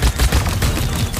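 Bomb King's bombs in the video game Paladins go off as a quick series of loud, thumping blasts in close succession, with a dense rumbling texture.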